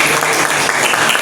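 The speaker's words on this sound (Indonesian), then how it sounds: "Kita berikan tepuk tangan." Students in a classroom clap together for a group presentation, a short burst of dense, steady applause from a roomful of hands.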